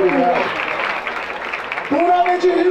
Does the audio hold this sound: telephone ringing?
no